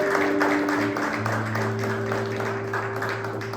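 A church congregation applauding, a steady wash of clapping beneath sustained organ or keyboard tones that carry on throughout.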